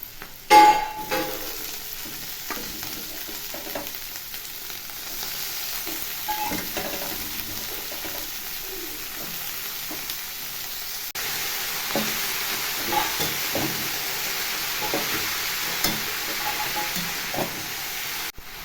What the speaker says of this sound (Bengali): এই দেখুন নাড়াচাড়া করে নিয়েছি